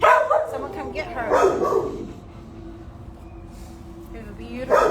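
A dog at an animal shelter barks in short, loud bursts near the start and again at the end, with quieter whimpering between, while a person talks close by.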